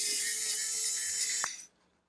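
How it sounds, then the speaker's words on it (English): A VMAN electric precision screwdriver backs out a screw with a high, thin whirring buzz for about a second and a half, then a small click and silence. "let's try taking another screw out"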